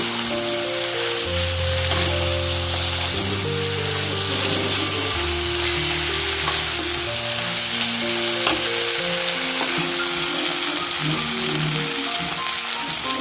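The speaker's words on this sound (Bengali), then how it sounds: "ভিতরে দিয়ে দেব ভেজে রাখা ডাটাগুলো দিয়ে একটু নাড়াচাড়া করে নেবো" Fried vegetable stalks being stirred in a frying pan for a milky shukto, with a loud, steady sizzle and crackle running throughout and a low tonal hum beneath it.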